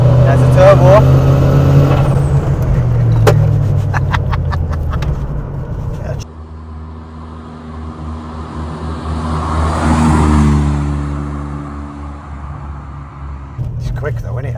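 A turbocharged 560bhp Ford Sierra Cosworth cruising in fifth gear: a loud, low engine drone fills the cabin, with a clear rise in engine note partway through, while people talk over it.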